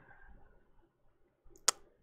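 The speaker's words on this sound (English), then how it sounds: "I hate clicking on the wrong buttons." A single sharp computer mouse click, close and crisp, stands out against a faint, quiet room background with no talking.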